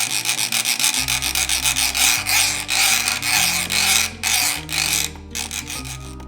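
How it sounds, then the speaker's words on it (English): A brand new hacksaw cuts into a TiGr Blue titanium bike lock clamped in place, producing fast, rhythmic rasping back-and-forth strokes, loud and close with no talking. "It's a brand new hacksaw."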